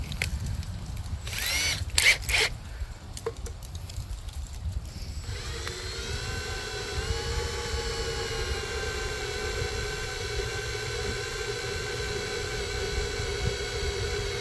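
A power drill fitted with a sharper bit bores in during a hydrostatic drive repair on a Husqvarna mower. A few seconds of knocking and rough grinding settle into a steady, close, high-pitched whine that holds to the end.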